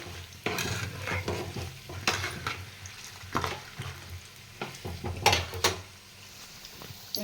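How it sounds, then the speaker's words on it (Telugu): Chana dal, urad dal and peanuts frying in a pan, giving a light sizzle under frequent scraping and clinking stirs of a spoon against the pan, close and quiet, with no talk. "చూసారుగా పచ్చెనపప్పు అయితే ఫ్రై అవుతున్నాయి అందులోనే మినప్పప్పు కొంచెం వేరుచెనపప్పులు రెండు వేసుకొని వీటిని ఒకసారి తిప్పేసుకుందాం"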